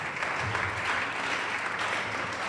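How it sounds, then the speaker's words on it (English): Steady audience applause rolls through a hall during an entrepreneurship development program session honouring contributors, dense even clapping that stays constant and moderately loud without speech over it. "Let us all give them a big round of applause"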